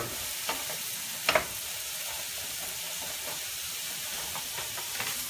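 Sausage browns in a hot pan with a steady, moderate sizzle and hiss, broken by a few brief scraping clinks of stirring.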